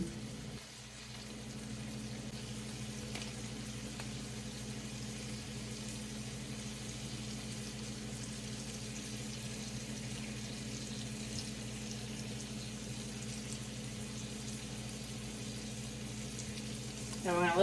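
Greens with grated Parmesan cook down in a pan, giving a steady low sizzling, bubbling wash that runs without a break at even loudness, with no voices.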